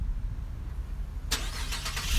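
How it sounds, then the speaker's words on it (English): A parked car on a city street is started by remote start, a sudden engine crank after a low rumbling background, then a steady idle. "Remote start."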